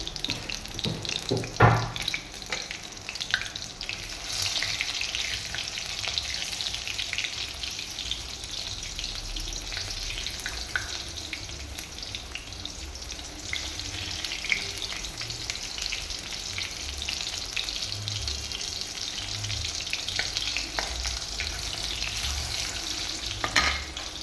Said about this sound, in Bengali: এই ফোড়নের সাথে আলুটাকেও আমি ভেজে নিচ্ছি।